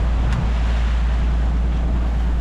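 Sea waves washing around a moving boat in a loud, continuous roar with heavy wind buffeting the microphone and a deep low rumble throughout.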